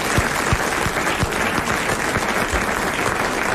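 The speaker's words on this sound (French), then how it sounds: "Nous l'applaudissons" A television studio audience applauds a game show winner, steady dense clapping filling the room evenly throughout, loud and close with no voices on top.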